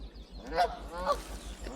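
Two short Canada goose honks sound close by in quick succession against a quiet outdoor backdrop on a Gulf Islands shore in British Columbia.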